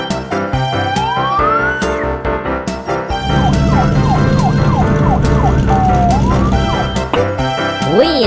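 Animated German police car siren wailing in a steady two-tone pattern, loud and close, with playful cartoon sound effects and music layered around it.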